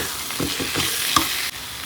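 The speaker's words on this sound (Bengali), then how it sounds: "আগে থেকে ভেজে রাখা আলু এর মধ্যে দিয়ে দিলাম। এটা দিয়ে একটু কষিয়ে নেব।" Pre-fried potatoes sizzle with spices in a pan, a steady frying hiss broken by a few quick stirring scrapes over a short stretch.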